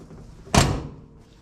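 A door on a 1976 Ford F-150 pickup swings shut with a single solid thunk, close and loud, followed by a short fading tail with no voices.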